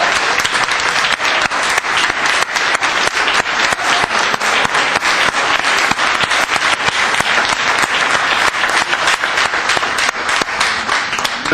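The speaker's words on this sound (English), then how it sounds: "And that deserves a big round of applause." A big round of applause fills a city council organization meeting in Glendale, dense sustained clapping from a room of people that stays loud and even throughout, with no speech over it.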